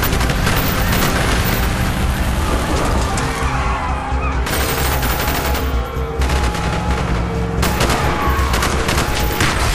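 Dense covering gunfire during a street fight in Call of Duty Black Ops, loud sustained automatic fire and crashes filling the whole stretch without a break.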